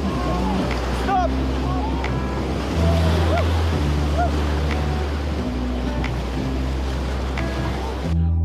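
Rafting paddles splash through the churning river water of the Rio Copalita on a Level III run, a constant loud rush with voices calling over it throughout.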